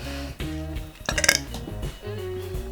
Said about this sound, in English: I'm such a burper. I do apologize.